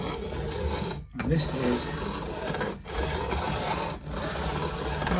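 A file rasps steadily across the fret ends of a Strat-style guitar neck, putting a bevel on them in continuous close scraping strokes with a few short pauses. A voice talks briefly underneath.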